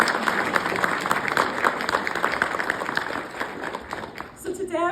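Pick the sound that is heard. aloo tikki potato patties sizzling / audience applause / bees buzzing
audience applause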